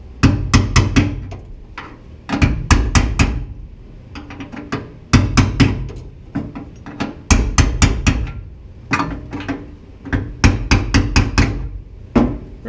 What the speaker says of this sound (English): Probably didn't need as big a hammer as I'm using